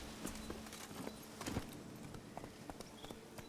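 Horse hooves clip-clopping at a walk in Witcher 3: Wild Hunt, faint and irregular, a scattered series of soft hoof knocks over a steady low background.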